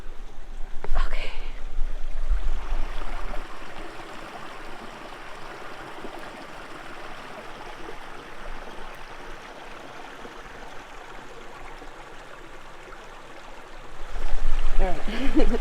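First Creek, a cold snow-melt stream in the southern Nevada desert, flows with a steady soft rushing and trickle, close by, briefly louder where the microphone is handled near the start and end.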